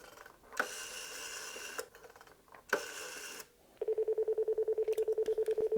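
An old rotary telephone is dialed: two whirring sweeps as the dial is turned and released, followed by a fast, even train of short tonal pulses, close and clear with no talking.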